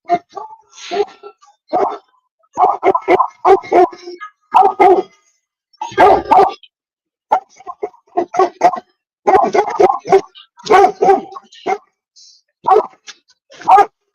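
Close speech with brief dog barks breaking in between phrases, short sharp yips scattered across the talk.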